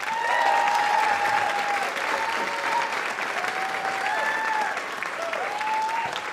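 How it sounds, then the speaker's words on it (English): Sustained audience applause fills a concert hall after a college jazz big band set, a dense even wash of clapping at steady loudness with faint overlapping voices and whistle-like tones drifting above it. "Let's give one more round of applause."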